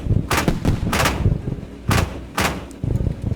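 Artillery fire in the video game Road Not Taken, played from a Marder A1: four heavy, loud booming blasts at irregular intervals, each with a sharp broadband crack and a low rumbling tail.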